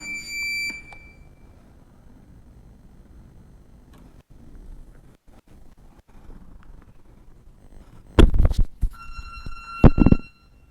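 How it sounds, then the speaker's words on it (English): A workout interval timer beeps once loudly at the start, followed by quiet room sounds and scattered thumps, then a cluster of sharp impacts and further electronic beeps near the end, close and clear. "I'm resetting the timer."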